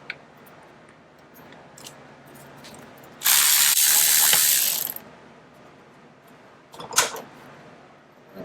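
Ratchet driving a 5/16 Allen bit to remove a brake caliper on a 2017 Indian Roadmaster Classic motorcycle: scattered single clicks, then a loud sustained burst of fast ratcheting, then a few more sharp clicks.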